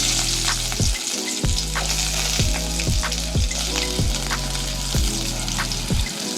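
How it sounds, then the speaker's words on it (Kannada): Onions dropped into hot oil and frying for chicken biryani, with a loud, close, continuous sizzle and a regular low pulsing rhythm underneath throughout. "ಇದಕ್ಕೆ ಫಸ್ಟು ನಾನು ಈರುಳ್ಳಿ ಹಾಕೊತೀನಿ."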